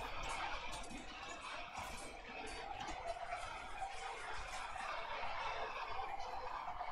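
A huge flock of video-game chickens clucks and squawks in a dense, continuous din during a mass battle against dinosaurs, with no talk heard.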